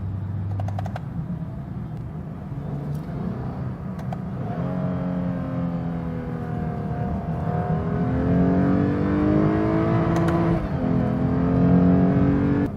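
A 2015 Lexus IS350 F Sport in Sport Plus mode accelerates hard from inside the cabin, its engine note rising through gears with quick shifts and a steady drone of road noise.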